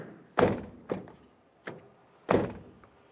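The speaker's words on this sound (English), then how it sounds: "Let's go ahead and shut the door and test it again." Four solid thunks of a 2009-2010 Pontiac Vibe front door shutting, close by, spaced unevenly across a few seconds with quiet between them.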